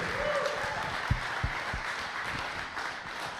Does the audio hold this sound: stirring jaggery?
no